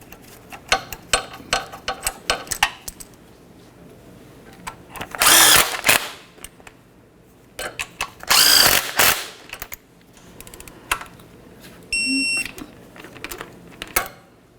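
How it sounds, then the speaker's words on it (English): Power tool tightening transmission mount bolts on a 2003-2007 Honda Accord, two loud sustained whirring bursts among many short clicks and clanks of handwork, with a brief beep near the end. "Starting your mounting bolts, snug them up, and then torque those to 33 foot-pounds."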